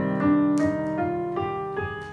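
A sustained minor chord on a melodic instrument, likely piano or guitar, in the Aeolian mode with lowered sixth, with several notes struck in sequence over ringing harmonics, close and moderately loud, no speech.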